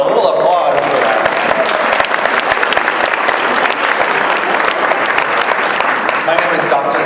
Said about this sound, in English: So a little applause for that.